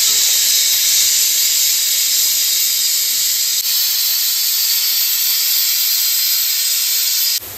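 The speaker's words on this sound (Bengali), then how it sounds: "এখানে আমি কড়াইয়ের ভেতর পেঁয়াজটাকে ভাজতে দিয়ে দিয়েছি" Onions browning in a kadai make a loud, continuous hiss that holds evenly for several seconds before cutting off abruptly at the end; nobody speaks.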